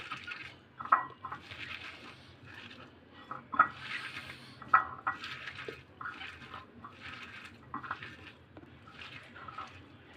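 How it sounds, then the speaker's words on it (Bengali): Chutney being mashed and squeezed by hand with salt, wet squelching and soft slapping pulses repeating at an irregular rhythm, close and fairly quiet. "লবণ নিয়ে ভালো করে ছেটকে নিব"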